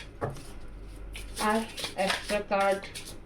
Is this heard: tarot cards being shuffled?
yes